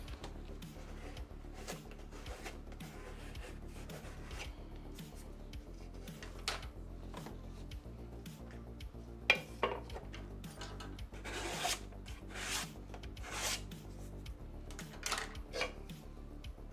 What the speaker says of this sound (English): We're scraping off the excess clay, these bats